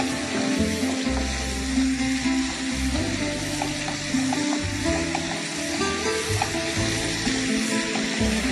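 Tomatoes half-cooking in a pan for a saffron coconut milk pasta sauce with garlic, giving a steady, close sizzle and bubbling throughout with occasional low stirring thumps.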